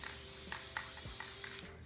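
Stain is sprayed from a can onto the original dresser poles, a steady close hiss with brief pulses on the nozzle that cuts off near the end.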